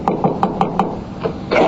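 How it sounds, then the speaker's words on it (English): A door is knocked in an audio drama: five evenly spaced, close, crisp raps, a brief pause, then a softer knock followed by a rustle. "It was nearly 3 o'clock when I heard the door."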